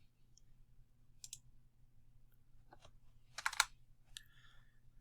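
Scattered keystrokes and clicks on a computer keyboard and mouse, a few light taps and then a short quicker burst of typing, close and quiet against a low hum.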